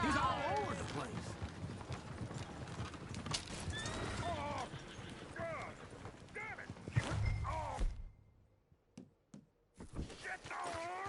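In the Red Dead Redemption 2 video game, horses whinny and squeal repeatedly amid hoof clatter and shouting voices, close and busy, ending with a few sharp knocks after the commotion dies down.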